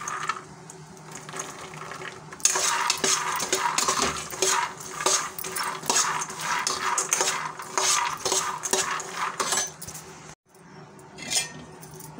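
Peanuts are dry-roasted in a pan and stirred, making a busy rattling, scraping clatter of nuts against metal. The sound is close and fairly loud, breaks off briefly near the end and then resumes faintly.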